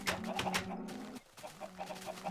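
Chickens in the farming video game Muse Farms cluck in short repeated bursts, fairly quiet, with a steady low hum underneath and a brief pause partway through.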